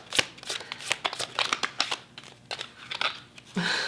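Tarot cards riffle and slap in a rapid, uneven run of crisp shuffling bursts, close up, ending in a brief rustle.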